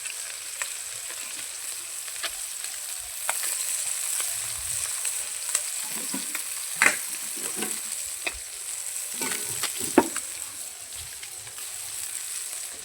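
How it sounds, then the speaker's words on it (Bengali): Fish frying in a pan in a home kitchen, a steady crackling sizzle broken by sharp pops and spatters that burst out irregularly. "মাছটাকে ভেজে তুলে নেবো আগে।"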